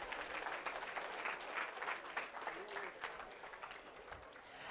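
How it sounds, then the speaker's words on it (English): Audience at a 4-H market hog show at a county fair claps for the middleweight exhibitors; steady, dense applause throughout, moderately distant and fairly quiet, with no talk over it. "Let's give all these exhibitors a round of applause."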